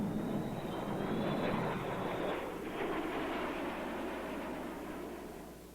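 Engines of B-52 intercontinental bombers give a loud, continuous broadband roar with a high whine that fades partway through, steady and close, then slowly easing off.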